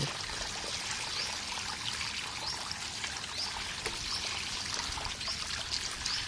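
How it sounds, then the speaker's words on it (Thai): Water pours steadily from a tap in a soft, continuous splashing stream, fairly quiet and unbroken. "เปิดน้ำมาล้างที่นี่ แรง น้ำไหลแรงดี"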